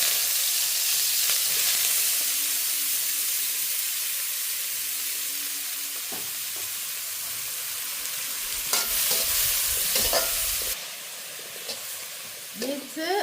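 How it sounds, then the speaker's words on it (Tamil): Leeks sizzling in hot oil in a pan, a loud steady hiss that carries on for several seconds, then eases as scraping and stirring noises come through near the end. "எண்ணெய் கொதிச்சுட்டுது, லீக்ஸாக போடுவோம்."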